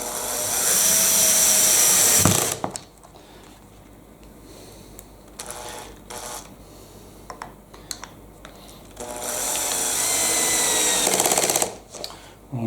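A power drill on torque setting 4, speed 1, drives screws into a Wilko Oxford radiator cover, with two loud whirring bursts of about two seconds at the start and end and quiet handling clicks between.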